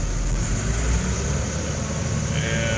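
Tractor engine idling while hooked to a straw spreader on a farm, a loud, steady low rumble that stays level throughout the short stretch.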